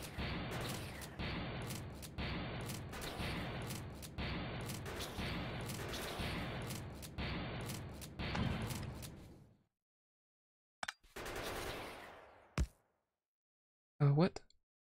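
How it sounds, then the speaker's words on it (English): Rapid shotgun blasts in the video game Factorio, a dense, loud run of repeated shots for several seconds, then silence broken by a few isolated bursts and clicks. "I'd rather use the shotgun shells right now to kind of destroy these"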